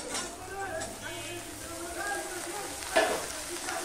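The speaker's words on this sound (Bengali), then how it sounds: "বরবটি আর টমেটোটাও দিয়ে আমি একটুখানি ভেজে নেব" Green beans and tomato frying in a pan for a fish curry, a steady close sizzle with stirring scrapes and a sharp clatter near the end, while a person talks over it.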